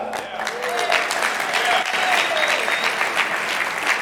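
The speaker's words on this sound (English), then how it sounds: "yes, go ahead and clap." Sustained applause from a large audience at a real estate event in Orange County, a dense wash of clapping with some murmuring voices mixed in, steady and fairly loud throughout.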